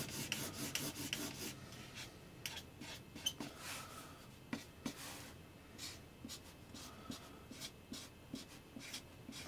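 Pencil sketching scales of a carpet python on paper, with rough, irregular scratchy strokes and short rubbing taps coming close and steady throughout, no voices over them.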